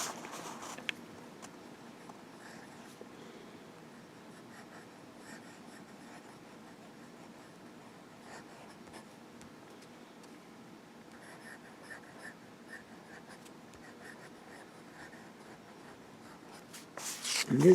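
A Diplomat Aero fountain pen with a 14K medium nib writing on Rhodia grid paper: faint, close scratching strokes in irregular bursts, quiet throughout, with a louder rustle of paper at the very end.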